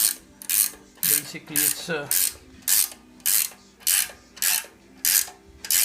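A hand ratchet tightens air cleaner bolts on a 2006 Harley-Davidson Sportster during an aftermarket air cleaner install, giving a steady series of loud, even ratcheting bursts about twice a second, with a brief spoken remark partway through.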